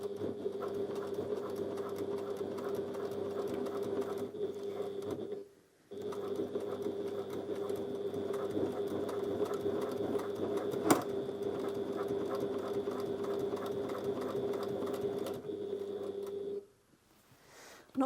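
A Janome HD9 professional sewing machine top stitches with thick thread, humming in a steady, even rhythm through two long runs separated by a brief stop, then halting near the end.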